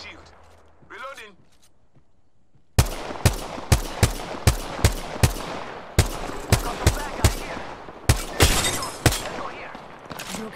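Rapid bursts of gunfire in the video game Apex Legends, a string of loud, sharp shots in quick rhythm following a quiet stretch with a brief voice at the start.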